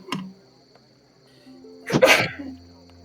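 A single sharp sneeze bursts out close to the microphone during a tabletop role-playing session, preceded by a brief short vocal noise and then quiet room tone.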